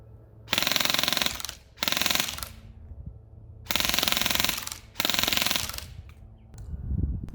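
A G&G ARP9 airsoft gun firing on full auto in four loud, close bursts of rapid mechanical clatter, each lasting about a second, separated by short quiet gaps.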